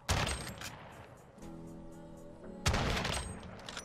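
Loud rapid bursts of gunfire from Call of Duty Modern Warfare crackle at the start, give way to a lull with a tonal hum, then return sharply.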